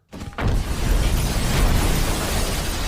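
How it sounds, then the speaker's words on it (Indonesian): A sudden loud bomb blast in the film Torque (2004) that swells into a sustained, roaring rumble of debris and fire, with no voices. "ia pun meledakkan tempat itu"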